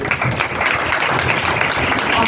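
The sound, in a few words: audience applause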